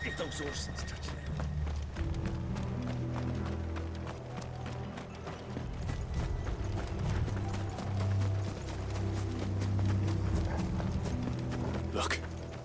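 Steady clip-clop of horse hooves trotting along with rattling mechanical clatter in the video game Final Fantasy XVI, continuous throughout, while a voice speaks over it.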